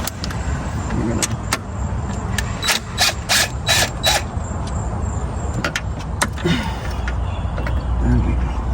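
Ratchet wrench with a 13mm socket cranking out an alternator bolt on a car engine during a high-output alternator install: bursts of quick, close metallic clicking, with pauses between strokes and some handling noise.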